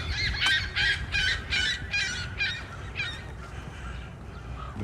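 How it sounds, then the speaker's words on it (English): Geese honk by a city lake with a footbridge and gulls nearby, a rapid run of loud, close, repeated nasal calls that fade after a few seconds over low outdoor background noise. "Geese."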